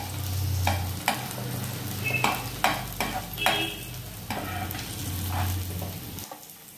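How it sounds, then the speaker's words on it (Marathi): Finely chopped onion and ginger are sautéed in hot oil over a high flame for a fish curry, with a continuous sizzle broken by the sharp clacks of a stirring spoon against the pan. "फोडणीसाठी ठेवलेला कांदा बारीक चिरलेला आणि आलं हे घालून ते परतणार आहोत"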